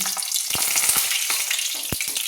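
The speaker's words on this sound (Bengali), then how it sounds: "তো আমি প্রথমে দেখুন 3টে গোটা শুকনো লঙ্কা আমি ভেজে নিচ্ছি" Whole dried red chillies, three of them, fry in hot oil with a steady close sizzle, broken by a few sharp clicks of a spoon stirring against the pan.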